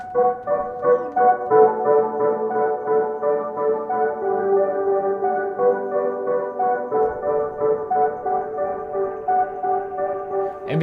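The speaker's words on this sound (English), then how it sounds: "some ancillary stuff I'm doing on the keyboard pad here. It sounds like this." Pad-style MIDI controller playing ancillary keyboard parts, a steady run of repeated plucked notes with a bright, even pulse, heard on its own without talk.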